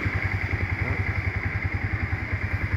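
A Honda Fortune Wing 125cc motorcycle engine running at idle, a steady close putter of evenly spaced low pulses with no talking over it.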